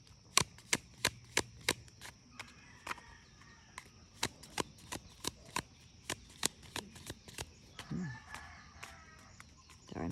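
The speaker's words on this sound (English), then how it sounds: "I'm still getting used to shuffling these" Rapid crisp riffling bursts from a deck of cards being shuffled, a dozen or so sharp ticks in quick irregular succession, close and fairly quiet, with a soft shuffle and rustle near the end.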